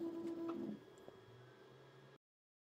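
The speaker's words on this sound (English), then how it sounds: "Now you can see it's wiping the nozzle." An Anycubic Kobra S1 3D printer wipes its nozzle with a steady stepper-motor whine and brief shifting tones, quiet and close, ending in a soft low hum before cutting off.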